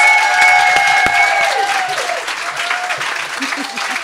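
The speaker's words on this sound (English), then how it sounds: "More applause, please." Audience applause at a women's poetry and standup event fills the room, steady and dense for about four seconds, with some voices mixed into the clapping.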